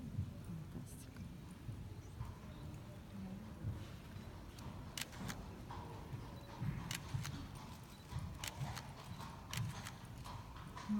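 A horse under a classic dressage saddle with a military bridle clip-clops steadily, hooves striking in an even rhythm at moderate distance, with faint speech and ambient noise underneath.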